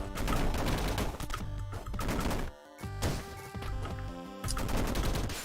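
Rapid gunfire from gun boots in the video game Downwell, a dense burst of loud, continuous shots with brief pauses, layered over busy game music and effects.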